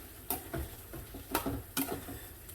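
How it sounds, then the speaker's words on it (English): Onions and peppers for a chicken jalfrezi going back into a hot pan, heard as three or four crisp scraping clatters over a steady background sizzle. "So onions and peppers back in."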